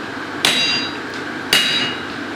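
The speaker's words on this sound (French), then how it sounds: "on va travailler avec 2 marteaux, on va frapper avec 2 marteaux" Hammers striking hot steel while forging a Damascus blade, two sharp ringing blows about a second apart, close and loud, each leaving a bright metallic ring that decays over a steady background hum.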